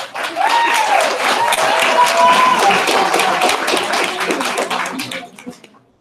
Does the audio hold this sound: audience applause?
yes